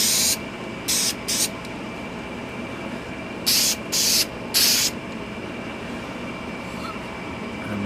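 Spray can of paint with primer misting onto a vintage hatchet head, heard as about six short, loud hissing bursts in two groups over a steady low background hum, close to the listener and without talk.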